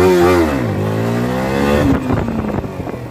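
A motorcycle engine revs hard and loud during a wheelie attempt, rising to a sustained high pitch, then dropping with throttle blips and rough, uneven revving toward the end.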